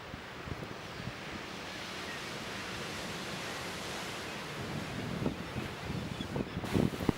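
Steady roar of Bering Sea surf breaking on the shore, a continuous wash of noise with wind, a few heavier crashes rising toward the end.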